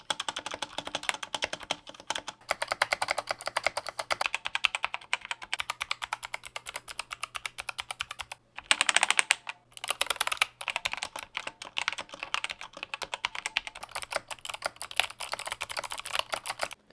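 Continuous rapid keystrokes on two mechanical keyboards, an Alza Rapture Kilo with red switches and a custom 60% board with Scalebox White switches, clicking steadily and close up with a brief pause midway and no talking.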